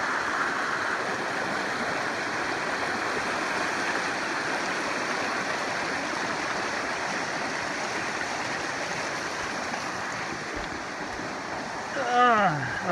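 Along the Appalachian Trail a stream flows beneath a log bridge, producing a steady, moderately loud rush of water, with a brief burst of nearby movement near the end.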